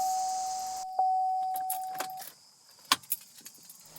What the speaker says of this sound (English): prime your fuel pump by turning the vehicle to the on position but not turning it over